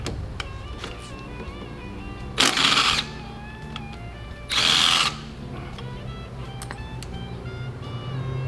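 An impact-type power tool breaks loose a fork bolt on a 39mm Harley-Davidson Dyna front fork during a rebuild, with two short, loud bursts of whirring and hammering a couple of seconds apart over quiet shop background.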